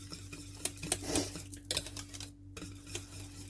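A whisk scrapes and taps in quick, uneven strokes against a metal pan as sauce or gravy thickens over medium-high heat. The clinks are soft and close, with a steady hum underneath and a short pause near the end.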